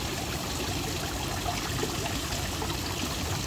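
Warm water pours and trickles steadily in a continuous, even, fairly close stream with no breaks and no talking.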